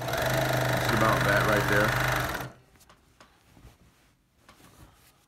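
A fast sewing machine stitches a t-shirt quilt in a steady, close whir for about two seconds, then stops, leaving quiet handling noises and a person speaking.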